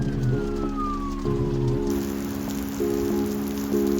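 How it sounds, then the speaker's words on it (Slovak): Heavy rain pours during a storm in Miami, a dense steady hiss running through the whole stretch, with loud wailing siren-like tones rising and falling over it. "Ide byť ešte brutálna búrka a prší strašne."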